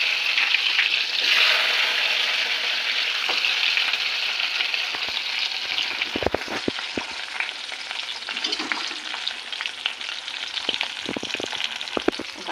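Onions sizzling in hot oil with cumin and mustard seeds, a loud continuous crackling hiss close by, with occasional scrapes and stirring clinks of the spoon in the pan and no talking.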